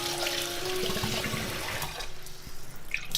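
Two cups of rice are rinsed under running water, giving a steady rushing, splashing flow with no talk.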